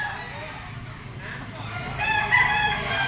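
Gilmore bloodline gamecock rooster giving a crow that rises toward the end of a short stretch, set against low background rumble and faint talk.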